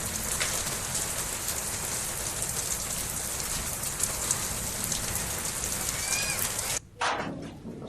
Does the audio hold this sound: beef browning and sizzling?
no